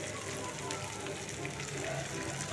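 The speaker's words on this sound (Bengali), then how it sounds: "খুব ভালো করে ভেজে নিয়েছি।" Pieces of meat marinated in yogurt and spices fry in oil in a pan, giving a steady, even sizzle throughout with no talking.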